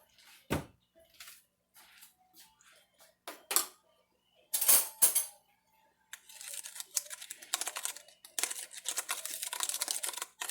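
A spoon stirring baking soda into pumpkin chocolate chip cookie dough in a bowl, giving scattered clinks and scrapes at first, then a denser run of scraping strokes near the end.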